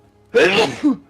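A single sneeze, close and sharp, with a quick inhaled lead-in and a short burst at the end.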